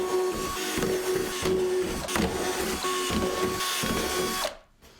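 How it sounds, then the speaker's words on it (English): Power drill boring holes around the rim of a plastic sled, a loud whining motor running almost continuously with brief dips in pitch as the bit cuts through, then stopping abruptly near the end. "Next, drill holes around the sled."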